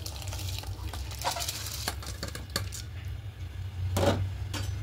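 Washed rice for vegetarian fried rice tipped into a pan and stirred, giving a close, soft sizzle with scraping spoon strokes and a louder burst of stirring near the end.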